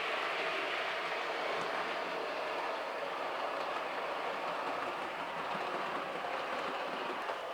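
A Bachmann Class 108 three-car DMU model train runs on a layout, giving a steady, continuous whirring and rolling hum without pause.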